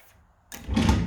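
A kitchen unit drawer slides open in a house: a quiet faint scrape, then a louder rumbling slide and thump lasting about half a second, with no talk over it.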